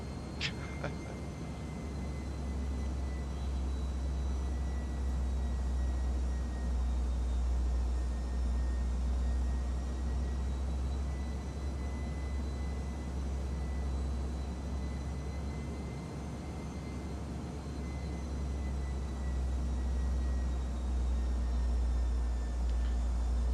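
Embraer E175 airliner in Microsoft Flight Simulator, its engines giving a steady, loud, vacuum-like drone with a broad hiss and low rumble that holds unchanged throughout.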